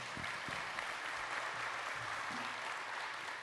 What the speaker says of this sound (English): So please, a round of applause for Josh.